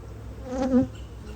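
A single honey bee at a hive with a deep box, queen excluder and five supers drones past close by in a brief buzzing swell that rises and fades within about a second, with no talking.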